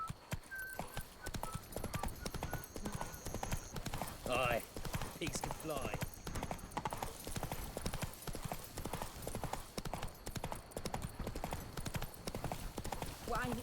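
The horse Roach gallops in The Witcher 3: Blood and Wine, a steady, fast clip-clop of hoofbeats running the whole time, close and loud, with a brief line of game dialogue spoken over it.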